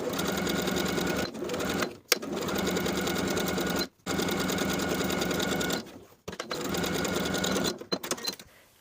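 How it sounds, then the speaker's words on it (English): A sewing machine stitches the outer and top edges of a shirt collar at a 3/8 inch seam, running loud and steady in long continuous bursts with brief pauses between runs. "Sew the outer and top edges at 3/8 inch."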